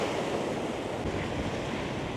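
Ocean waves break continuously at the Papara surf spot, a steady close wash of surf with some wind noise and no voices.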